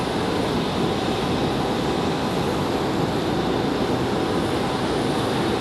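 Broadband jet roar from an airplane departing Raleigh Durham airport, bound for Houston, a steady loud rush that holds evenly throughout with no voices.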